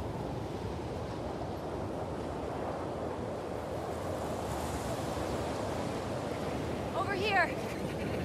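Strong wind rushes steadily across a high, exposed spot in the video game The Last of Us Part II, a constant broadband roar with a brief warbling chirp near the end.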